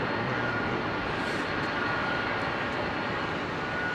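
Widebody airliner with GE90 engines departing Heathrow for LAX, a steady loud broadband engine roar that holds evenly throughout with no voices.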